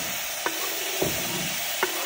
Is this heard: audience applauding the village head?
no